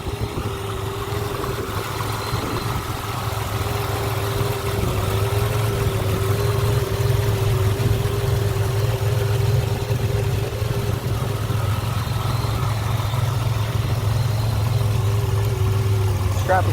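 Low-mileage 1987 Buick Grand National engine idling, a steady close rumble with a faint clattering edge that holds even throughout, under occasional talk.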